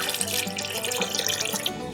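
Two and a half cups of water pour into a pot for chili dog mac and cheese, making a continuous close splashing gurgle.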